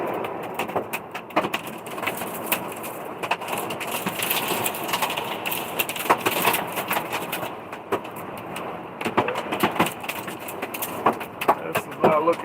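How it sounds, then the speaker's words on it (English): Heavy storm in Frederick, Maryland, with hail pelting a truck: dense, irregular clatter of impacts over steady rain noise throughout, with sharper bursts of hits, heard from inside or beside the vehicle. "Sounds like hail hitting the truck."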